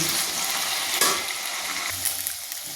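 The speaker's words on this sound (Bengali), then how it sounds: "আলুগুলোকে হালকা হালকা ভাজবো" Potatoes lightly frying in a pan make a continuous close sizzle with soft stirring scrapes and a brief louder burst partway through.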